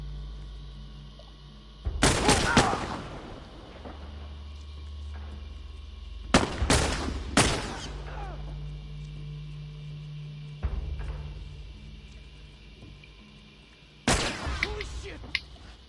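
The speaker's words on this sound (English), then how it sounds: "Shoot him again." Gunfire as Ellie shoots in The Last of Us, four separate loud sharp blasts spread over several seconds, each decaying with a brief rumble, with low ambient game sound in between.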